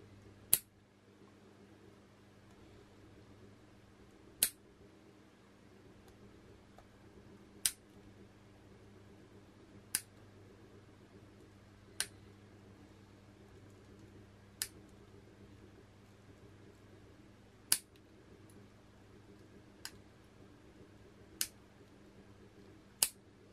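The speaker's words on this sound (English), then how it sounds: "This is an unexposed roll of 120. And I'm going to trim it using some nail clippers." Nail clippers trimming the edge of an unexposed roll of 120 film: about ten sharp, isolated clicks spaced a few seconds apart, crisp and close over a quiet, faintly humming room.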